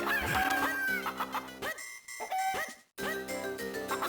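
Game chickens in The Legend of Zelda: The Minish Cap cluck and crow in quick repeated bursts over a looping chiptune-style town melody, with brief gaps of silence.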